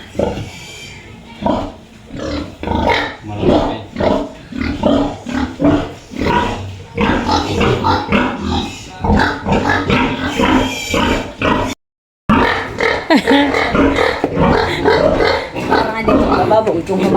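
Piglets bought for raising grunt and squeal repeatedly in a rural Filipino farm setting, close and fairly loud, mixed with people talking over and between the animal noises.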